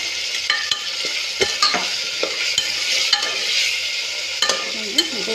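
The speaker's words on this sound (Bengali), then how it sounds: "এইবার আমি দিয়ে দেবো এই যে আলুগুলো কেটে রাখা কাঁচা আলুগুলো তার সঙ্গে দিয়ে দিচ্ছি আমি টমেটো কুচি এটা দিয়ে আমি কিছুক্ষণ নাড়াচাড়া করে নেবো" Raw cut potatoes and chopped tomato sizzling in oil in a pressure cooker as a spoon stirs and scrapes in quick repeated strokes, close and loud with no voices.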